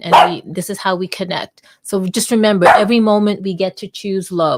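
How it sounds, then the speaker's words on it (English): A pet dog barks in the background at home, the yaps faint and mixed under someone speaking steadily over them. "And that's my dog. I think she's barking at John."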